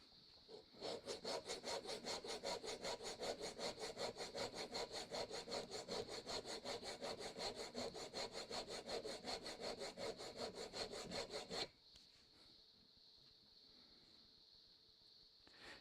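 A wood chisel is sharpened by hand on its micro bevel, with steady, rapid back-and-forth rasping strokes against the stone for about eleven seconds, then it stops, leaving a faint background hum.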